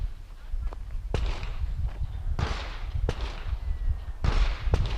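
Handgun shots fired from full arm extension during shooting practice, several sharp, loud cracks spaced about a second apart, some with a quick follow-up, over outdoor background noise and faint voices.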